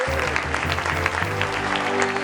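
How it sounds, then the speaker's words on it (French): A crowd claps steadily for a couple of seconds, a dense even patter of applause. "Je pense que ça s'applaudit déjà."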